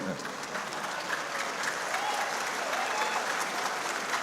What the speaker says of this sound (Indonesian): Ya, tepuk tangannya keras tambahi.